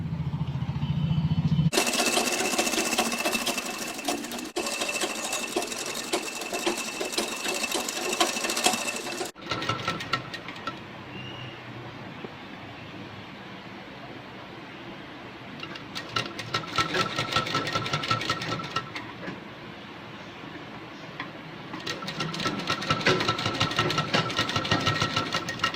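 Electric sewing machine stitching the neck of a blouse to its lining fabric, a steady buzzing whir in long continuous runs with pauses between, fairly close and alone.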